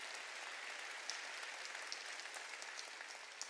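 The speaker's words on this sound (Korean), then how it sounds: "깨달은 사람만 박수." Faint applause from a church congregation during a Wednesday worship service, a soft, even wash of clapping with a few sharper claps standing out.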